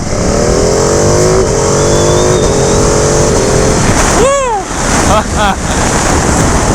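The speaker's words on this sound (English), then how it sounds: "So I'm going to go down to second gear here, give it a little bit more gas" A 2019 Ducati Panigale 959 accelerating in second gear on a test ride, its engine rising in pitch under heavy wind rush, then a quick blip and rev changes near the end, loud and close.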